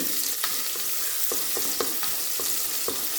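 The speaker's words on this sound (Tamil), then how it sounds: "இதெல்லாம் நல்லா வதக்கிட்டு" Small shallots and masala sautéing in a pan for mutton kuzhambu, a continuous close sizzle with a few sharp spatula scrapes spaced through it, no voices.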